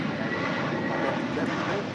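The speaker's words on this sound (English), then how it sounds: "A350-1000 coming in from London, touching down here on the south side" An Airbus A350-1000 airliner arriving from London and touching down on the south side: a steady, broad jet roar fills the brief moment, with faint speech-like sounds mixed into the engine noise.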